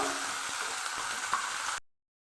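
Chopped spring onion greens frying in a pan, a steady close hiss and sizzle with faint crackles that stops abruptly after about two seconds.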